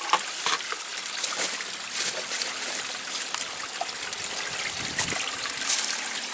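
A rocky Ouachita Mountains creek trickles and runs among stones, a steady close wash of water with small splashy bursts and no talking.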